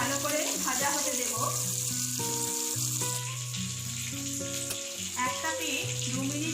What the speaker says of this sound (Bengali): একটা পিঠ 2 মিনিট ভেজে নিয়েছি